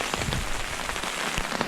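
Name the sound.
pouring rain at wilderness camp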